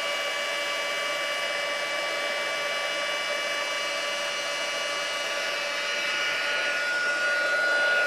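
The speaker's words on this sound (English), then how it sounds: "Okay, so heat gun again. We're just going to heat that image again." A heat gun blows with a steady, even whir while heating embossing powder on a stamped paper image, close and continuous with no talking.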